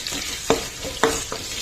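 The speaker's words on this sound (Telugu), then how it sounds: "చూడండి, వేగుతుంది కదండి" Chopped onions frying in a hot oil tempering for a leafy dal curry, a steady sizzle broken by a few sharp scraping stirs of the spoon against the pan.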